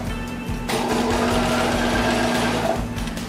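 A Bernina sewing machine straight-stitching vintage leather at a long stitch length, a steady close mechanical whir with rapid needle chatter and a constant motor hum, running alone without speech.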